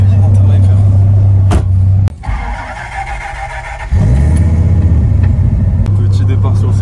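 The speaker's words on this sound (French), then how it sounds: "Petit départ sur le circuit avec Lasco dans la Viper." A Dodge Viper on a race circuit on worn tires, a loud, close, deep engine drone from inside the car that drops briefly during a gear change, then resumes its heavy rumble.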